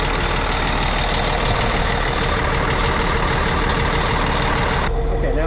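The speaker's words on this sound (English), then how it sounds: "we'll rev it up a little bit, make sure everything's all good" A Caterpillar 657E scraper with a C18 engine, brought back after running out of oil, roars loudly and steadily at close range, a dense engine drone that drops suddenly near the end.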